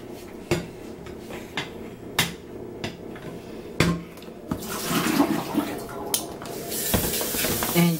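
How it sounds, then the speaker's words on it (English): Water splashes and sprays as a container is rinsed out, with broadband swishing building in the second half, preceded by several sharp knocks and clatters of the container against a hard surface. "is going to rinse this out for me"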